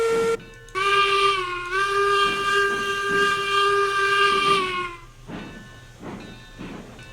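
The Eureka steam locomotive in Railroads Online gives one long, loud whistle blast of several seconds. Softer rhythmic steam chuffs and hiss follow as the engine pulls.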